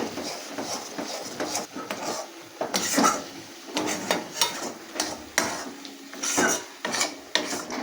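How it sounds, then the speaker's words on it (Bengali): A spoon scrapes and knocks around a pot as lentils seasoned with salt and turmeric are stirred, giving repeated close clinks and rasping strokes in an uneven rhythm with no talking. "এবার ডালটাকে আমি খুব ভালো করে নেড়ে নেব"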